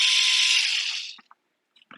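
A small power driver whirs loudly for about a second, backing screws out of the gearbox of a Glock 18 style gel ball blaster, then winds down into a few faint clicks.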